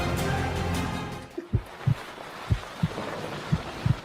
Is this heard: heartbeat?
yes